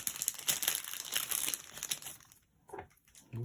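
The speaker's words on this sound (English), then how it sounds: "So we're gonna open that because I think I'll be using this pack of flowers quite a bit during my decorations" Crinkly plastic packaging of a pack of decorative flowers being opened up close, about two seconds of continuous crumpling and tearing followed by a few short separate rustles.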